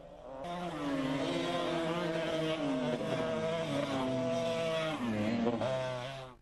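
Rally cars at a national-level autocross championship event, engines revving loudly with shifting, droning pitch that rises and falls continuously, close and sustained throughout.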